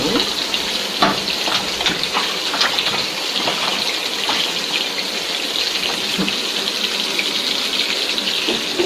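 Hands are rinsed under a running kitchen tap, a steady splashing gush with scattered clicks and spatters throughout, moderately loud and close.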